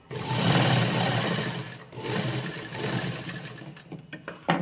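A sewing machine stitches fabric for a child's skirt in a continuous close whirring drone, with a brief dip partway and a few light clicks as it winds down.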